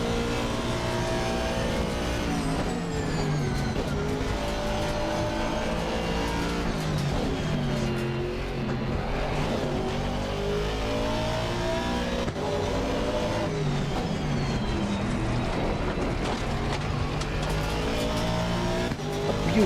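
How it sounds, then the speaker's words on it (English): An Aston Martin Vantage GT3 races in a video game, its engine revving hard through rising and falling gear changes with tire squeal, loud and continuous throughout. "driving the Aston Martin Vantage GT3"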